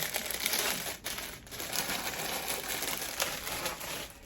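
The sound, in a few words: shredded tissue paper being handled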